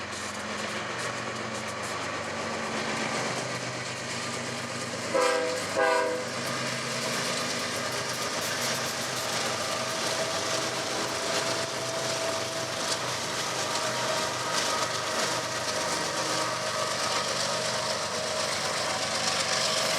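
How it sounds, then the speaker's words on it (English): A Kansas City Southern ES44 diesel locomotive hauls a morning intermodal freight train past near Oklahoma City, a steady engine rumble and rolling cars with two short loud horn blasts early on. "That last train turned out to be the morning Z train, a Kansas City Southern ES44 Trails."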